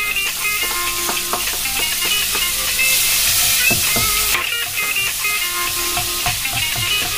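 Butter sizzles loudly and steadily in a frying pan already used for minced pork, with occasional clinks and stirring from a utensil.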